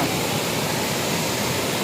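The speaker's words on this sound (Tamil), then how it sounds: "இது வந்து நம்ம டென்ட்டுக்கு பக்கத்துலேயே இருக்கிற வாட்டர் ஃபால்ஸ் தான்" A hidden waterfall near a tent in Munnar pours steadily, a dense, close, unbroken rush of water that fills the whole clip without any voices.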